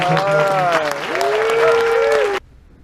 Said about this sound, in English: just one big round of applause